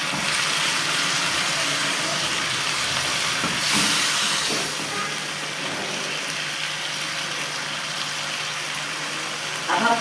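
Moong dal frying in a pan gives a steady broadband hiss and sizzle throughout, with a brief louder surge partway through and a faint clatter near the end.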